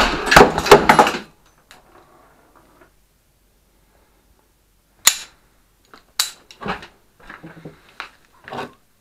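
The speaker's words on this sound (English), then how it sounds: "I managed to put a shot in that corner and basically it ripped the plate apart." A Tokarev pistol fired at a homemade armor plate of 18 layers of Kevlar 29 outdoors: one sharp loud shot at the start, followed by quieter clanks and knocks of handling, then a few more sharp cracks later.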